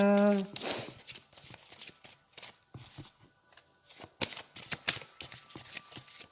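Oracle cards being shuffled, a quick ruffling burst at the start followed by a series of soft, irregular taps and flicks as cards are handled, fairly faint and close.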